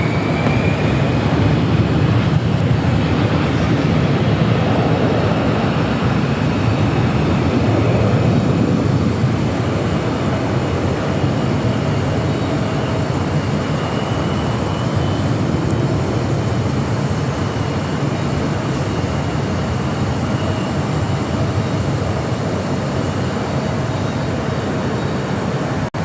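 A jet aircraft takes off from runway 24 left at LAX, a loud, steady engine roar with broad rumble that holds for the whole stretch, heard alone without voices.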